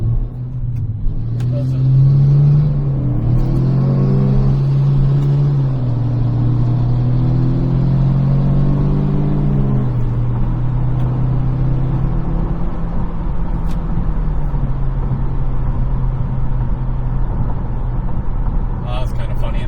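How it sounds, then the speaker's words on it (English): A Cummins diesel pickup truck roars alongside a car and races past, a deep engine drone that swells, holds for several seconds and then fades into steady road rumble while a person talks close by. "it was a Cummins diesel pulling up next to my car"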